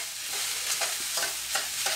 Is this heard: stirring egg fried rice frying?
yes